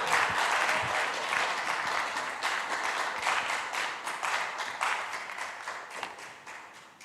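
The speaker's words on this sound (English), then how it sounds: "A round of applause for Professor Aisha" An audience at a winter school session in Kumasi applauds Professor Aisha with sustained, dense clapping that carries on strongly and tapers slightly toward the end.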